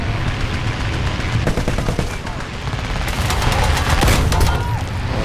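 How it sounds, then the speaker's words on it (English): A .50 cal machine gun fires in War Thunder, rapid loud bursts of shots tumbling over one another above heavy rumbling engine and battle noise, growing denser toward the end. "We're going to get rid of the rest of our 50 cal rounds so we can reload."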